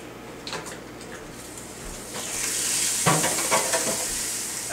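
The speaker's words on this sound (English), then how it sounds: "we got the George Foreman on 350. And we're going to cook our steak." A steak sizzles on a George Foreman grill heated to 350, with a steady frying hiss that swells partway through and a few soft clicks and shifts on top.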